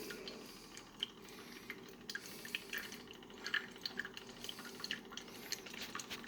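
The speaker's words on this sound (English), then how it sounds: "it's starting to brew now." Keurig K-Duo coffee maker starting to brew with its 1.77-liter side water reservoir, giving soft close dripping and trickling over a quiet hum as water flows through.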